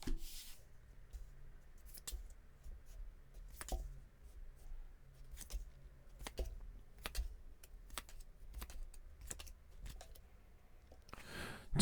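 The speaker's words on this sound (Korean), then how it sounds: "제가 카드 뽑아볼게요" Tarot cards are shuffled and drawn during a reading, with a series of sharp, separate clicks and taps spaced irregularly over several seconds against a quiet background, no voice present.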